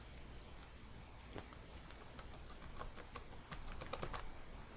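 Someone types on a computer keyboard while using a Fedora Workstation 29 desktop, with quiet, steady key clicks that come faster and louder toward the end over a faint background hiss.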